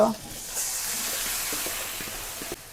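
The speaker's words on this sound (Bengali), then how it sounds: "এটা একটু লাল লাল করে ভেজে নিই ভাজা হয়ে গেছে" Onions frying in a pan before meat is added, a steady close hiss of sizzling oil that holds evenly for a couple of seconds.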